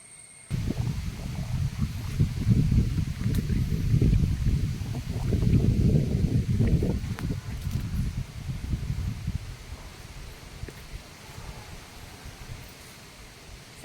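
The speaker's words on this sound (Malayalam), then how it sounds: "നല്ല കാറ്റ് കേട്ടോ നല്ല കാറ്റ്" Strong wind gusts through a forest, a loud, rushing roar close to the microphone that swells and eases over many seconds with leaves rustling, then fades toward quieter breeze.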